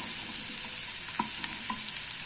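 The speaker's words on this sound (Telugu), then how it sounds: "ఈ పొట్టిని మనం బాగా ఫ్రై చేసుకున్నామండి" Ridge gourd peel fries in a pan with a steady, close sizzle and occasional soft clicks of stirring, without any talking.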